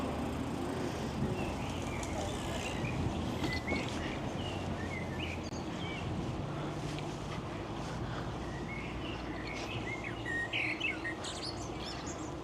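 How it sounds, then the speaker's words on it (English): Birds chirp and tweet steadily throughout along a sunny Dutch country road, several calls overlapping at moderate distance over a constant low rumble of wind and road noise. "The birds are chirping away, chat."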